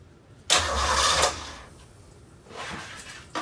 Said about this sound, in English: See if this battery's got enough power to crank her over.